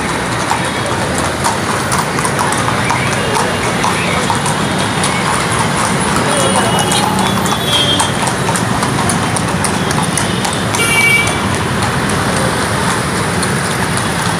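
Mounted police horses clip-clop along a main road in the Hussaini Alam area of Hyderabad, their hooves sounding steadily through loud, continuous street and traffic noise with no break.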